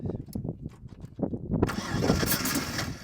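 A Mitsubishi Montero engine cranks and then catches into a steady running roar, with rhythmic starter pulses ahead of it. The owner suspects a timing issue.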